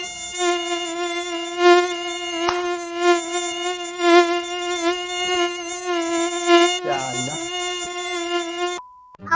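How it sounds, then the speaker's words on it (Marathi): A steady, high-pitched whine drones on continuously, like mosquitoes buzzing right near the ear, cutting off abruptly at the end. "कुठला तरी दोन डास येऊन वाय वाय करायला लागल्यात"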